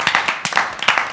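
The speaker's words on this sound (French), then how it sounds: "Bon, on peut l'applaudir." A studio audience claps for a newly arrived chronicler, with a short burst of distinct, fairly close hand claps in an uneven rhythm.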